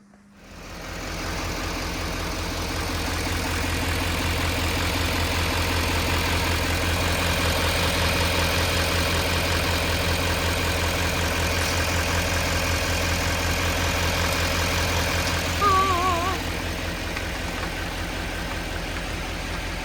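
A Chevy Duramax diesel pickup engine turns over and settles into a steady, loud idle that runs close by for about twenty seconds with no talk, its low rumble briefly rising near the end.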